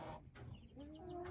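A hen clucks softly a few times at close range, with short throaty notes sliding into a drawn-out tone, faint and with no talk over it.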